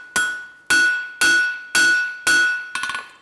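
A hammer strikes hot steel stock on an anvil five times at a steady, slow pace, each blow a loud, bright ringing clang that decays, followed by a quick burst of lighter, rattling taps.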